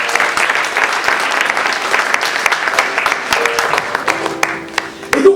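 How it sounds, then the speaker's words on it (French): A church congregation at a sermon claps in sustained, dense applause, loud and close, with a few voices and cheers mixed in near the end. "Est-ce qu'on peut les acclamer?"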